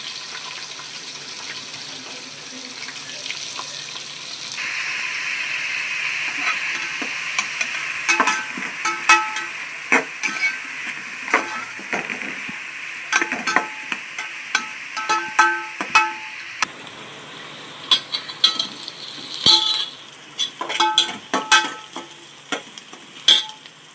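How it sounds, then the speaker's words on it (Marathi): Onions fry in a pan and are stirred, a steady sizzle joined midway by a brighter hiss, with repeated sharp scrapes and clinks of a spoon against the pan. "चांगला लाल होईपर्यंत कांदा परतायचा आहे"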